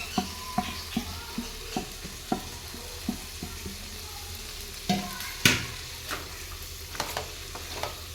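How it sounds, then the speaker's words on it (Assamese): Chicken and carrots sizzle quietly in a pan while a utensil scrapes and taps in irregular stirring strokes, with one louder clatter partway through. "মাংসৰে সৈতে গাজৰখিনি ভাজিব লাগিব।"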